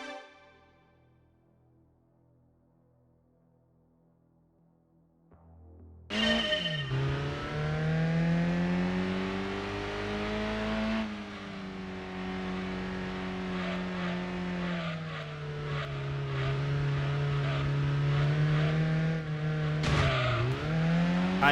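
Peugeot 106 Rallye, a front-engine, front-wheel-drive car of 99 brake horsepower, in Gran Turismo 2 on a tight low-speed slalom: a loud buzzing engine revs up, holds, dips briefly and climbs again, with a short tire squeal near the end.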